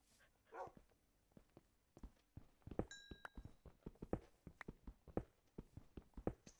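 Dog barks in a Minecraft survival game, sharp short yaps repeating irregularly alongside game footstep and movement sounds, fairly quiet overall.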